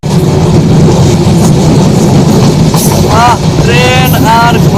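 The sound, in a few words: Rangpur Express train slowly crossing a bridge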